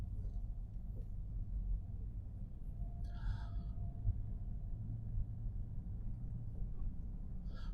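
A car creeps along at about 20 km/h on a driving-exam route in Kyiv, its interior filled with a steady low engine and road rumble, plus a brief faint squeak partway through.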